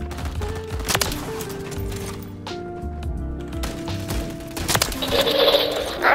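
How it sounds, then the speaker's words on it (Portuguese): Rapid gunfire crackles through a Call of Duty match, bursts of shots layered over game sounds and a low drone, continuous and fairly close with no speech over it. "Apenas tiros."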